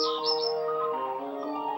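Small birds at a birdhouse in the video game Amanda the Adventurer 2 give a quick run of soft, high chirps and tweets, quiet and close with no talking.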